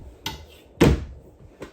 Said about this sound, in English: Sliding door here to close off our back room.